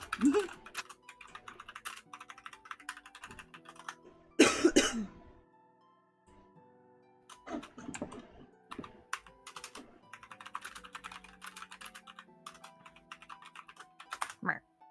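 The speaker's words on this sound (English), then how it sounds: "typing away" Rapid tapping on a computer keyboard clatters on and off, with a loud cough in the middle and faint voices in the background.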